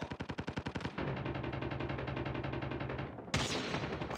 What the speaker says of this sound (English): Friendly sentry gun deployed.